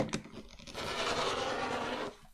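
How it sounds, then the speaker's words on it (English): Scissors cutting along a printed line in paper for a Peter Rabbit lapbook journal, one continuous close rasping cut lasting about two seconds with no talk. "I don't like the line I cut to, so I'm just going to cut to this line."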